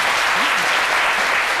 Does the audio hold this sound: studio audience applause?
yes